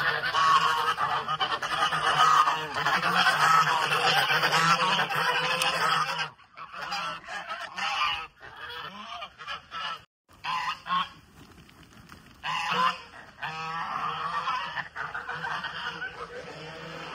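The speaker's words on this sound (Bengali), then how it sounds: "এখন রাজহাঁসগুলো ছাড়তে হবে।" Geese on a farm being let out of their pen honk loudly and close by in repeated raucous bursts separated by brief pauses.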